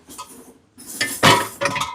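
Metal kitchen vessels and utensils being handled in a home utility area: a faint clink, a pause, then louder close clattering and scraping of pots and cutlery in short bursts, without talk.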